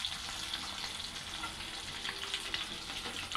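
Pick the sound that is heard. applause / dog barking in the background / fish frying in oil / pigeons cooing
fish frying in oil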